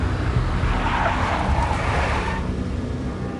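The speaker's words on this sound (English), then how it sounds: "A big black Mercedes." A big black Mercedes in the video game Max Payne, heard as a loud, steady car rumble with tire skid and engine noise that fades slightly toward the end.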